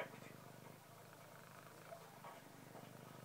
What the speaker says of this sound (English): Best purr in the world, huh?